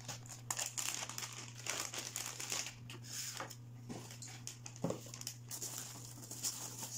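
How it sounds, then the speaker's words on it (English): Frozen green plantain pieces being packed into a plastic Ziploc bag, giving steady close crinkling and rustling of plastic with small clacks of the frozen pieces, over a low constant hum. "So I'm gonna be putting these other ones inside the Ziploc."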